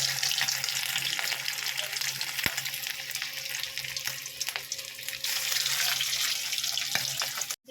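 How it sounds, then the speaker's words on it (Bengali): Chicken pieces deep-frying in hot oil in a wok, a steady dense sizzle and crackle running throughout with a few sharper pops, close and fairly loud with no voices. "এবার একটা একটা করে ফ্রাই করে নেব"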